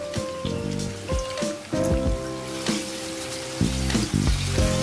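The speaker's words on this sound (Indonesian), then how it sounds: "goreng udang sampai berubah warna menjadi orange" Shrimp fry in hot cooking oil until they turn orange, a dense, continuous crackling sizzle close up, with a faint tonal hum underneath.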